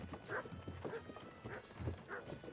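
Hooves clip-clop at an even walking pace in a video game, a steady rhythm of soft thuds with faint background ambience, fairly quiet.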